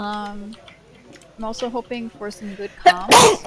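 A single sharp sneeze bursts out near the end, loud and close, following a stretch of male speech during an Overwatch game review session.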